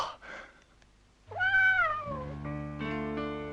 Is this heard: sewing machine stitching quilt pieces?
no